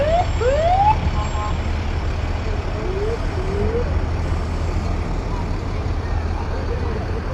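Jackson Fire Department fire engine rolling past in street traffic, its siren wailing in rising sweeps over a steady low engine rumble, fairly close and loud throughout, with a voice talking over it.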